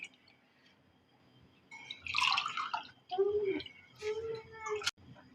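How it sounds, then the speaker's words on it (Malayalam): Raw green mango juice pours into a glass in a short gurgling splash, followed by softer liquid trickles and a few brief tonal sounds in a quiet kitchen. "ജ്യൂസ് റെഡി ആയിട്ടുണ്ട്. നമുക്കിനി ഗ്ലാസ്സിലോട്ട് ഒഴിക്കാം."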